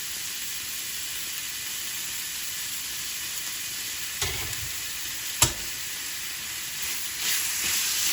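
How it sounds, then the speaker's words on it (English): Steady hissing sizzle of bacon frying in a smoking-hot pan, continuous throughout, with a sharp clink and a few brief scraping sounds near the end. "Now we're just frying up some bacon."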